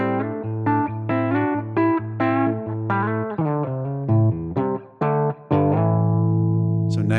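Clean electric guitar tone through a modeled Fender Champ amp in TONEX, single notes and short chord phrases played one after another with clear sustain and brief gaps, loud and close with no talking.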